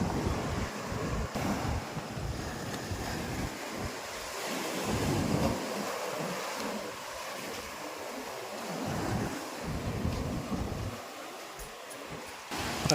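Sea waves washing onto a shore at night, a steady broadband rush with surges and wind buffeting the microphone, continuous and fairly close, with no voices.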